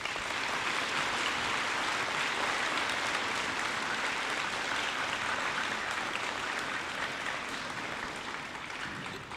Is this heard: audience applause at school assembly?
yes